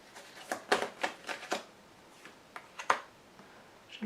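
Tarot cards being handled and laid down on a table during a reading, a series of soft, close slaps and shuffling flicks in an uneven rhythm, with brief pauses between them.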